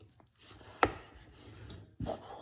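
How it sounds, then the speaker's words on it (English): A knife cuts through a grilled steak on a board, giving a couple of quiet, sharp taps and scraping strokes, close up in an otherwise quiet spot. "to cut this steak"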